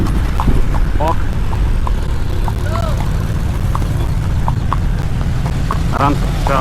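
A horse walking in Davanagere gives steady, evenly spaced hoof clip-clops at close range, under a rider's calm encouraging voice and some steady background noise.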